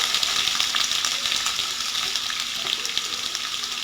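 Onions hit hot oil with mustard seeds, chana dal and urad dal, giving a steady, close sizzle with light scraping and stirring clicks throughout, no voice.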